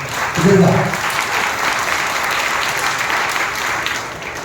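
A church congregation at a Sunday worship service claps together in a sustained round of applause, dense and fairly loud, with a voice heard briefly near the start.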